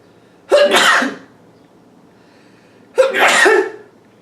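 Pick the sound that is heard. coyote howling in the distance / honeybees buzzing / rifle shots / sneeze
sneeze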